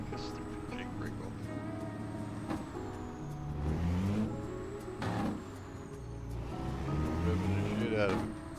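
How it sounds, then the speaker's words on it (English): A heavy truck engine in American Truck Simulator revs up and down in repeated rising swells, droning steadily with harmonic whine, a speaking voice faintly underneath. "Revving the shit out of it"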